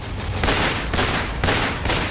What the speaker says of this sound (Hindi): गोलियों की तड़तड़ाहट से ये पूरा इलाका गूंज उठता है।